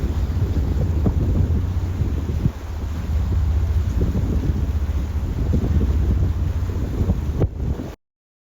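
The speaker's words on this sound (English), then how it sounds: "It rained, it stormed, it was really the worst weather you could imagine" At Lake Como, a stormy gust of wind roars loudly and steadily against the microphone, with deep rumbling underneath that could be thunder, all unbroken until an abrupt cutoff.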